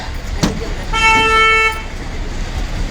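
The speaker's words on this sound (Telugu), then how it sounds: "జోలపాలెం బస్సు వెల్టూరులో బయలుదేరుతుంది." A village bus in Vellaturu pulls away and gives one short, loud horn toot, with faint road and engine noise before and after.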